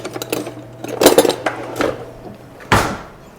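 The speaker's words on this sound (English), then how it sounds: "And then I'm gonna just mix these together, get myself a little spatula." Spatula scraping and clinking against a bowl while allspice and other ground spices are mixed by hand in a home kitchen, in a few short irregular strokes with one sharper knock near the end.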